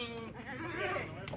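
Castrated goats at a livestock market sell ahead of Eid, bleating over one another in a near, steady, crowded chorus that runs the whole time with no talk.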